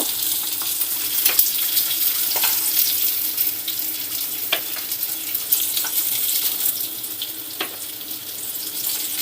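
Rohu fish pieces fry in oil with a steady, loud hiss and sizzle that runs continuously, punctuated by occasional sharp crackles and spatters, with no talking.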